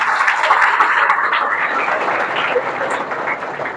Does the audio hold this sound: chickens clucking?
no